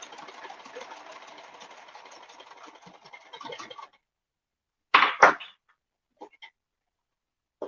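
A sewing machine stitches scrunchie fabric with elastic inside, giving a steady, close mechanical whir for several seconds. After a pause come a few short bursts of stitching.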